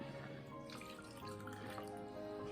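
Water filtered through a Berkey water filter runs in a steady, faint stream, like a small tap pouring without a break, with no voices.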